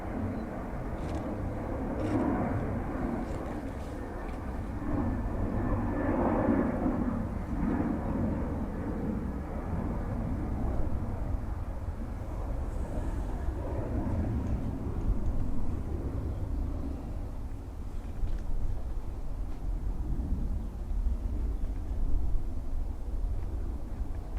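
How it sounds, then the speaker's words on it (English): A Ryanair airplane departing Dublin Airport gives a distant, low rumbling roar that holds steady and swells slightly, heard alone without talk. "whatever's making a load of noise on departure. Ryanair"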